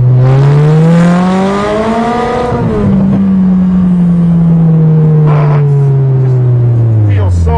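Toyota GTS engine stuck in first gear, revving loudly and steadily with a strong droning pitch that rises, dips, then slowly falls, close and continuous with no talk over it.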